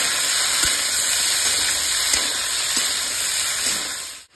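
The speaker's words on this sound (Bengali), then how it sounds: "এবার দিয়ে দেবো আলু। আলু ভালো করে কষে নেবো।" Potatoes frying with tomato in a hot pan, a loud, steady close sizzle with a few faint stirring knocks, no talking.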